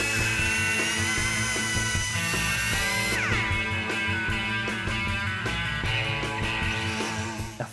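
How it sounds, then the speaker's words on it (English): An angle grinder dresses the edges of a welded steel shifter panel for a 1961 Chevy Impala, a loud continuous whine with a busy, shifting mechanical texture that runs without a break before trailing off at the end. "A few passes with the grinder dresses up the edges."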